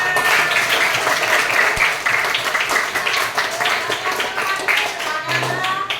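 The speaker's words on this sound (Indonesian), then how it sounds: "tepuk tangan." Classroom applause from a group of pupils, a steady patter of many small hands clapping across the whole stretch, with children's voices mixed in underneath.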